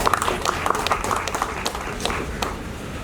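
Guests clap at a television press conference for a new show's cast and crew. The clapping is close, uneven and moderately loud, with scattered sharper claps that thin out toward the end, and faint voices murmur underneath.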